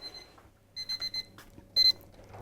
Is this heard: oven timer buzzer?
yes